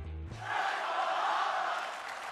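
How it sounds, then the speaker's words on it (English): A WWE wrestling crowd in an arena in Riyadh chants and roars in support of a wrestler, a loud sustained mass of voices that swells in after a brief tonal sound at the start. "the crowd started chanting, Let's go Harper."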